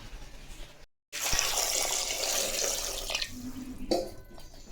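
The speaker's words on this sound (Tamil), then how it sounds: "இப்போது தேவையான தண்ணி சேர்த்துக்கலாம்." Water added to a cooking pot of sambar made without dal: a bright, gushing pour starts abruptly after a brief silence, holds steady for a couple of seconds, then tapers to lighter trickling, close up and alone.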